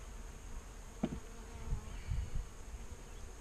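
Honey bees from a package being split three ways fill the air with a steady low buzzing hum, joined by a brief louder buzz near the insects and some soft handling bumps.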